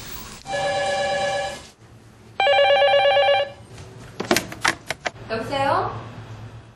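An old-style telephone bell rings in two loud, buzzing bursts, then a handset is picked up with clattering knocks before a voice answers; a public-education piece on phone scams.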